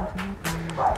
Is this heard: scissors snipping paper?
no